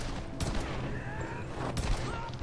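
Video-game gunfire from Tomb Raider (2013) rings out as a couple of sharp, loud shots over a busy backdrop of in-game action.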